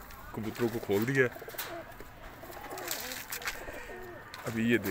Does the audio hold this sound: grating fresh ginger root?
no